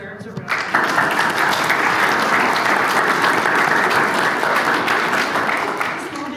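A meeting audience bursts into loud, sustained applause that starts abruptly and holds steady for several seconds before slowly tapering, dense clapping close and full.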